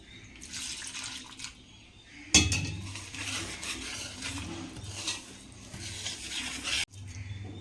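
Gram flour batter being stirred with ghee for Mysore pak, soft wet scraping and sloshing in a bowl with a sharp clink of utensil partway through.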